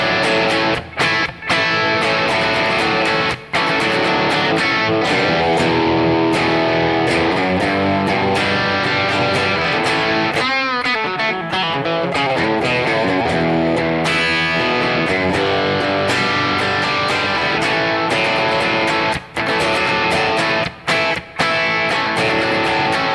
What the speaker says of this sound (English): starting with position 1, bridge humbucker with some distortion